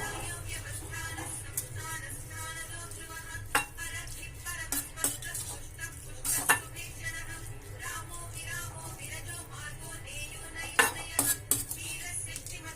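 A spoon stirs powdered sugar and cumin into a paratha mixture in a bowl, making soft scraping and clinking against the dish, with a few sharper knocks throughout.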